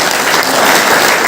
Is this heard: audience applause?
yes